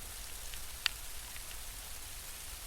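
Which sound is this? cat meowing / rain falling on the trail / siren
rain falling on the trail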